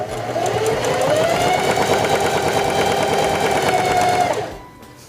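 A Singer 4411 heavy duty sewing machine runs a zigzag stitch, its motor whirring loud and close in a steady rapid mechanical drone for about four seconds before winding down to a stop.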